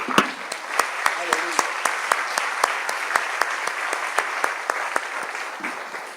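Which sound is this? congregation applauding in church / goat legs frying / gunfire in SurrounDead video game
congregation applauding in church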